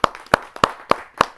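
Audience at a Hindi kavi sammelan clapping to welcome a poet from Meerut: five sharp, evenly spaced claps, loud and close, with no talk.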